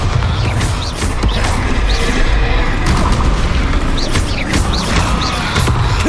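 Repeated booming magical blasts from the Confringo fire spell in Hogwarts Legacy, loud and close, landing in a dense, continuous barrage of crashes and bursts with a constant rumbling background.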